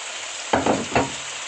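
Lamb liver frying in a pot as chunks of bell pepper and potato go in, giving a steady hiss with a few louder bursts of sizzle and stirring.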